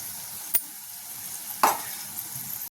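Curry leaves and turmeric dropped into frying onions for a tomato curry, giving a steady low sizzle broken by two sharp crackling bursts as they hit the hot oil, no speech.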